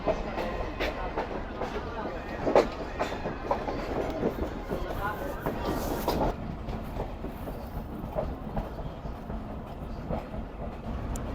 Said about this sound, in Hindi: ये गोसरजी रेलवे स्टेशन से बाय हैंड PLC लेने के बाद ट्रेन निकल रही है